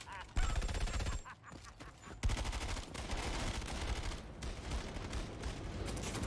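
Machine gun fire in the video game Batman Arkham Origins: rapid automatic bursts, loud and close, broken by short gaps and continuing in dense stretches, with a player's voice over the shooting.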